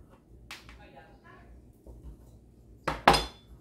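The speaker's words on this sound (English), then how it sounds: "And then they're gonna go into the skillet with the corn." Olives dropped into a skillet of melting butter with corn while making an olive and corn pasta: a few light clinks early, then two sharp clattering hits near the end, close and fairly loud, with faint talk between.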